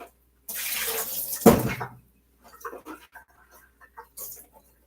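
Water pours steadily into a fruit cobbler for about a second and a half, ending with a splash, followed by quiet kitchen rustles and clinks.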